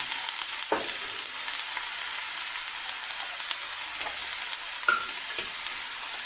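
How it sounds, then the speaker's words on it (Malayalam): Eggplant sautéing in a pan for an eggplant and egg masala curry makes a continuous, even sizzle close by, with a few soft stirring scrapes and a brief clink partway through, and no one talking. "നമ്മുടെ വഴുതനങ്ങ എല്ലാം ഒന്ന് വഴന്ന് വന്നിട്ടുണ്ട്."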